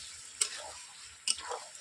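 Chicken pieces stirred and frying in butter in a pan, with two brief scraping stirs over a soft, steady sizzle, close and fairly quiet.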